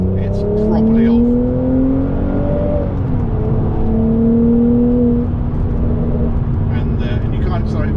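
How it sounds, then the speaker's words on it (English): A Mercedes-Benz SL400 Edition engine pulls under throttle from inside the car, a steady droning note climbing and then settling, loud and continuous with road and wind noise underneath. "So I give it some throttle now, it's properly off."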